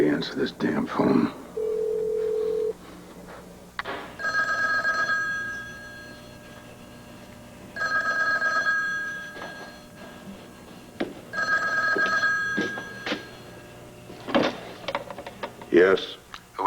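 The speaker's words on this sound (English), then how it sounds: "Somebody answer this damn phone." An old-fashioned telephone bell rings in three long bursts separated by pauses, clear and close indoors, with people talking around the rings.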